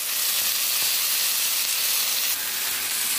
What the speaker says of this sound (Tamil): தக்காளி வந்து நல்லா வதங்கணும்